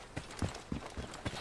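Horse hooves clip-clop in Assassin's Creed Origins, a quiet, steady series of about six hoof strikes at an unhurried walking pace.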